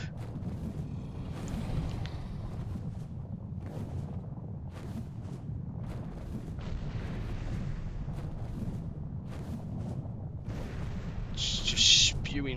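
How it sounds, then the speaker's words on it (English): Volcanic eruption in the video game Ark: Ragnarok, a continuous low rumbling roar with scattered bursts and pops of exploding rocks, steady and loud throughout with a brighter crackle near the end. "I think some of the rocks are just exploding in midair"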